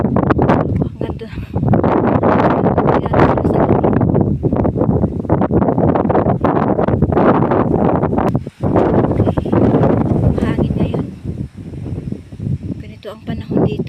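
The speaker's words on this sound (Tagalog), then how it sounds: "Ang panahon dito pag December talagang ganito, mahangin-hangin." Strong December wind on a mountain buffets the microphone in loud, continuous gusts that rise and fall, with muffled voices mixed in beneath the roar.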